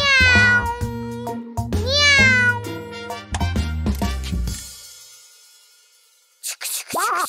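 A cartoon cat in Pocoyo gives several loud, drawn-out, sliding meows in quick succession. After a quiet gap, a final short burst of yowling follows.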